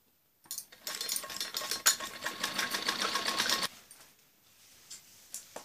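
A sewing machine stitches evenly around the edge of a padded blouse, running steadily for about three seconds close up before stopping, followed by quieter handling noise.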